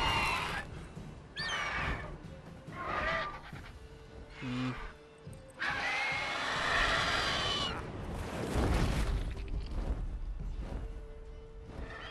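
A horse whinnies and pants in distress while being attacked by a griffin in the video game Witcher 3, with loud cries and scuffling bursts over game background sound.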